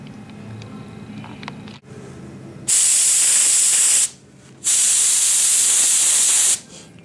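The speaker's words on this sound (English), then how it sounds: "We want to make sure that the gun is spraying simultaneously from both nozzles" A spray gun sprays deionized water from two nozzles at once, hissing loudly in two long bursts separated by a pause, following quieter background noise.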